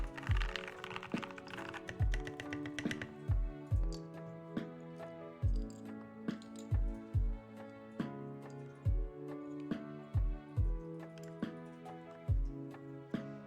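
Keys clack on a Discipline mechanical keyboard fitted with lubed Gateron Yellow switches and an acrylic case, producing irregular bursts of close, muted thocks and clicks with short pauses between runs.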